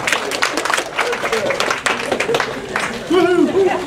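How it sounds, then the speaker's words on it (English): An audience at a diabetes and blood sugar health talk claps in a burst of applause, with some cheering and voices mixed in toward the end. "give yourselves a round of applause"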